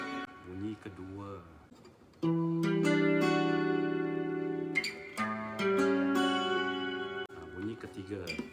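A new guitar being demonstrated, a few plucked and strummed notes ringing between short stretches of someone talking nearby.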